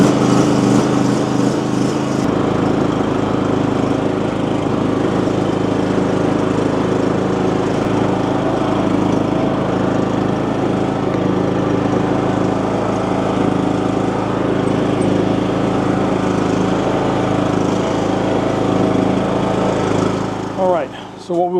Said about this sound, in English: The trailer hooked up to my lawnmower.